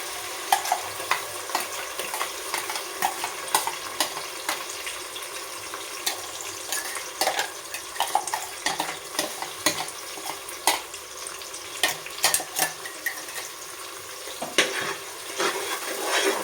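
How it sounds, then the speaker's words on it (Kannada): A ground paste of coriander, mint, tomato and green chili fries in oil for veg pulao, sputtering and crackling steadily with frequent sharp pops and spoon scrapes over a constant bubbling hiss. "ಇವಾಗ ಇದನ್ನು ಎಣ್ಣೆಯಲ್ಲಿ ಸ್ವಲ್ಪ ಫ್ರೈ ಮಾಡ್ಕೋಬೇಕು"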